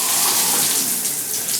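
A shower head and straight water stream in a bathroom running steadily, a close, loud broadband rush that eases slightly near the end.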